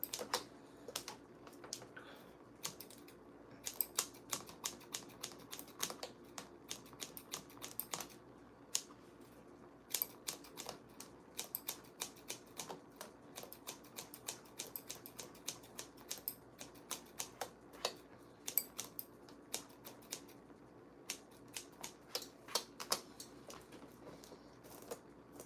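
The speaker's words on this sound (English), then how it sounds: "you use the end of the scissors and you just go around and cut it." Scissors snipping into synthetic wig hair with the tips in a point-cutting technique, a steady run of quick, crisp clicks and snips close up with no talking.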